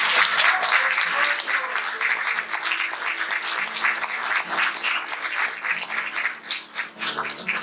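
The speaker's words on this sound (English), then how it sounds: "Give the Lord a hand clap of praise." A congregation at Seventh Street Baptist Church claps its hands in praise, a dense, sustained burst of many hands close by that keeps going for several seconds, with a voice faintly audible in the mix.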